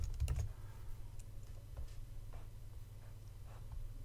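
A computer keyboard tapped out in a short run of light, quick keystrokes, quiet and close over a steady low hum, with no talking.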